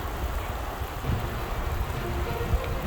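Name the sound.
rain falling on Sawmill Pond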